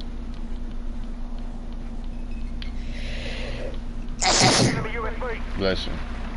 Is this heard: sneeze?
yes